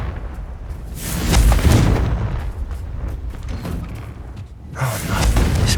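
A Confringo fire-blast spell explodes in Hogwarts Legacy beside a locked cellar gate, giving a loud booming burst that rumbles on. A second heavy blast hits near the end.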